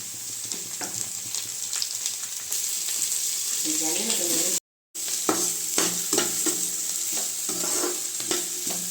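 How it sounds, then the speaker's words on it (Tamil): Chopped carrot and capsicum sautéing in a pan while being stirred for corn fried rice, a steady close sizzle broken by repeated scraping stir strokes, with a short silent gap midway. "இது ஒரு அஞ்சு நிமிஷம் நல்லா வதங்கி வரட்டும்"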